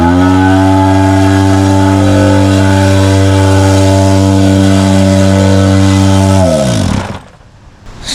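A loud, steady mechanical drone from an engine-free plate compactor working a travertine patio base, holding a constant hum with strong tonal harmonics before winding down abruptly near the end.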